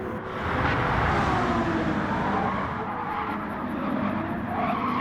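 Ferrari race cars roaring around the Monza circuit in Gran Turismo 7, a continuous loud engine drone with tyre squeal and the whoosh of cars passing close by, heard alone with no voices.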